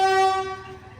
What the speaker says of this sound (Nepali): यहाँबाट ट्रेन आउँदैछ है